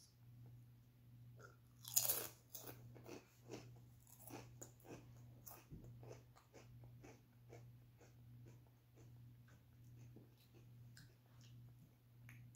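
Swedish potato chips crunch loudly in a close bite, then chewing continues in a steady run of crisp crackles and softer munches, with light breathing and no talk.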